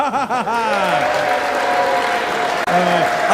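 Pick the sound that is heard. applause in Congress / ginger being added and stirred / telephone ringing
applause in Congress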